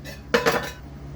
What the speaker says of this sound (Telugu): ప్యాన్ పెట్టి ఆయిల్ పోయాలండి